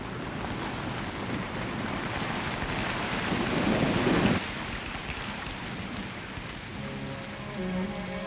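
Heavy tropical rainstorm over Amazon jungle, a dense steady roar of rain with rumbling thunder that swells and peaks before dropping to a lighter downpour, with no voices.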